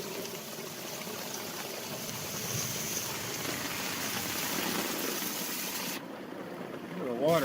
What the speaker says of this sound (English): Water coming out of here.